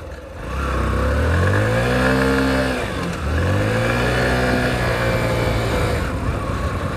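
A Hero Passion Xtec 110 motorcycle with a badly worn clutch plate revs up loudly and steadily, dips briefly, then climbs again and holds a high, strained engine note, close by with no talk.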